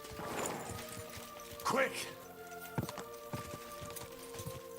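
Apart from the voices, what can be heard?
horse hooves clip-clopping, from the video game Kingdom Come: Deliverance II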